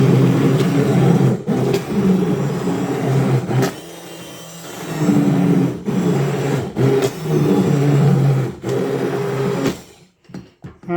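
A blender purees thawed canned tomatoes, its motor whirring loudly and close in several bursts with brief pauses between, then cutting off near the end.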